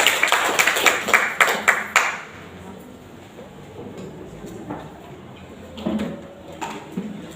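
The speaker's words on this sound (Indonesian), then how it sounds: "sekali lagi, tepukannya meriah untuk Ibu Eva" A burst of audience claps for Ibu Eva at a school session on positive culture at SMAN 1 Kupang: a few sharp, rhythmic claps for about two seconds, then quiet room noise with a few scattered knocks.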